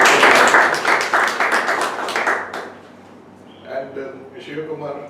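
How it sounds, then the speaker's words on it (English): Clapping from a group at a meeting, a dense burst of many hands for about two and a half seconds, then fading out as talk takes over. "So give him a big round of applause for that."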